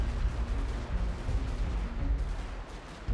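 Artillery cannons firing in a Civil War real-time strategy game, a dense continuous rumble of booms and blasts across a wide open battlefield, loud and unbroken, with no voices.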